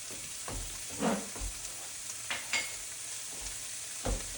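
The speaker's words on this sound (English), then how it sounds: "then add the garlic and saute it a little bit" Morel mushrooms and fresh garlic sautéing in a pan, a soft continuous sizzle punctuated by a few scattered stirring scrapes, close but fairly quiet.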